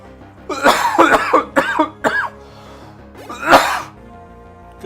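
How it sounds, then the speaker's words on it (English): A run of harsh, loud coughs comes in several close bursts, with a final strong one after a short pause. The coughing is close to the mic and no one speaks. "That's that persistent cough I mentioned at the start of the stream."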